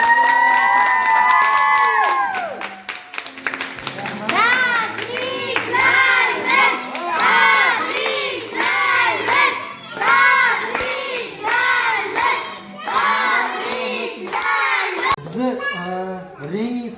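Children and adults at a birthday celebration clap and cheer, with bursts of shrill children's shouts and crowd noise rising and falling over scattered handclaps.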